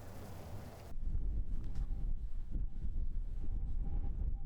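Wind gusts buffet a microphone outdoors, a low rumbling roar that jumps louder after the first second and keeps churning unevenly with no voices.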